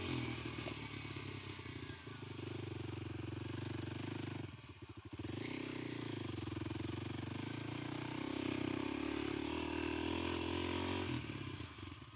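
A Kawasaki KLX300 motorcycle with its secondary throttle plate removed runs on a test ride, a steady droning engine note heard from the rider's position that dips briefly and then carries on, with no speech.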